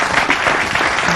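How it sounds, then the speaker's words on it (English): Standing ovation for a presidential guest at a televised encounter in Ghana, a brief burst of loud, dense clapping filling the moment. "A round of applause. And with a standing ovation."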